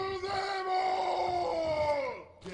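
A knight character in Chivalry: Medieval Warfare lets out one long, loud, drawn-out battle shout that slowly falls in pitch before cutting off, alone and up close.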